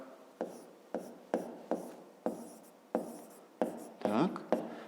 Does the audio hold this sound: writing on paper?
yes